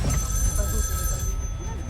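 A telephone rings during a Fort Boyard challenge, a continuous electronic bell tone sounding under loud background noise and voices throughout the short clip.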